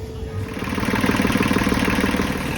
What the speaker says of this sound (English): That is the sweet, sweet noise of the engine running once again.